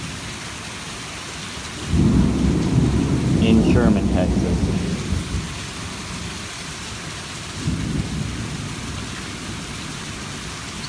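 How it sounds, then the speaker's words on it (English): A rainy-day thunderstorm in Sherman, Texas brings steady rain with a deep, rolling rumble of thunder lasting a few seconds and a second, fainter rumble later, while a person speaks briefly. "But this is every rainy day in Texas."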